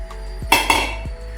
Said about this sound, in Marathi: ही सांडशी घ्यायचं, असं ठेवायचं